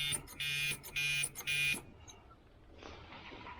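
A loud electric buzzer blares in several rapid on-off bursts, then cuts out, leaving a quiet room with faint background noise.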